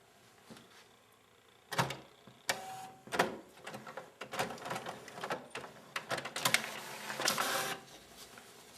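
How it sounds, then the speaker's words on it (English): An office printer feeds and prints a sheet of regular paper, with a quiet start giving way to clattering mechanical bursts, clicks and whirring that grow busier and louder toward the end. "you should be able to just print it directly on your printer"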